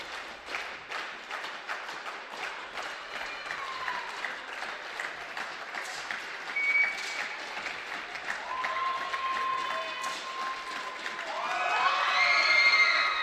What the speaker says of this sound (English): Murat Orgun claps along.